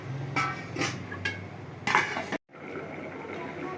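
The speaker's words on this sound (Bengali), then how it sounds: "এবার আমি ঢাকা দিয়ে দেবো।" A metal lid set down on a pot of Bengali chicken and potato curry, a few clinks and knocks of cookware in a home kitchen, ending in an abrupt clatter followed by a quiet simmering background.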